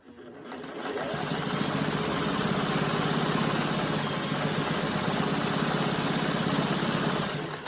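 Sewing machine running fast while stitching a jelly roll rug from fabric scraps, spinning up from silence into a loud, steady, rapid mechanical whir with a rattling stitch pulse that holds for several seconds, close up.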